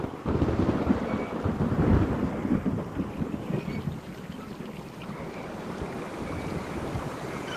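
Deep thunder rolls through the whole stretch, swelling loudest in the first two seconds and then settling into a steady, moderately distant rumble mixed with wind-like noise, with no voices.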